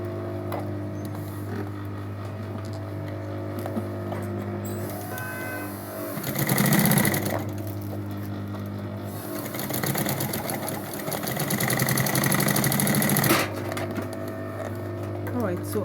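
A sewing machine stitches a fabric pouch in two bursts of rapid, close mechanical chattering separated by a quieter pause, over a steady low motor hum, with no talk.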